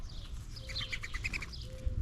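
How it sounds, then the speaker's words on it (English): Several birds chirp and sing at backyard feeders, a cluster of bright, rapid tweets in the middle of the stretch over a steady low outdoor hum, with no talking. "Listen to the sounds of the birds."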